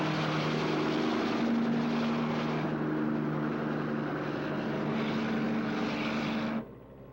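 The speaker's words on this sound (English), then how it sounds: "We'll take the chopper." A helicopter flies with a loud, steady rotor and engine drone, close and continuous with a strong low hum, cutting off abruptly near the end; no voices are heard over it.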